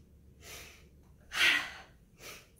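Three deep inhales in a row during a Breath of Joy breathing exercise at a women's recovery practice session: close, airy breath bursts with short pauses between them, the middle one loudest, and no talking.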